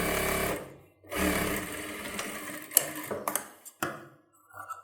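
A sewing machine runs in close, loud bursts while stitching a child's silk pavadai skirt, with brief pauses and small clicks of handling between the runs.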